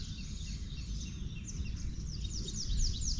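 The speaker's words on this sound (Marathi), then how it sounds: "पक्ष्यांचे आवाज मस्त कानी पडत आहेत" Birds chirp and tweet in quick, repeated high calls, growing busier toward the end over a steady low outdoor rumble.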